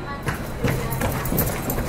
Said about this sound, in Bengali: প্ল্যাটফর্মের পাথরের বুকে ভেসে আসে ওর পায়ের শব্দ।